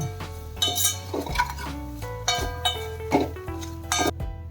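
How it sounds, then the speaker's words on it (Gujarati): Gram flour sambharo with gunda being stirred in a pan, a spoon clinking and scraping against the metal in repeated close strokes over a steady low hum, without talking. "પછી આપણે પાછું હલાવી લેવાનું છે અને ગેસને હવે આપણે ઓફ કરી દેવાનો છે અને હલાવતા રહેવાનું છે"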